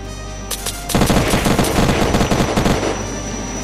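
Rapid automatic gunfire in the video game Unturned during a police roleplay shootout: a couple of isolated shots, then a loud, dense burst of machine-gun fire rattling on for about two seconds before trailing off.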